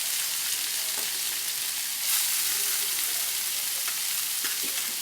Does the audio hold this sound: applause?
no